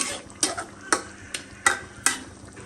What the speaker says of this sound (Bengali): এখন এটা কিছু সময় ভালো করে কষে নেব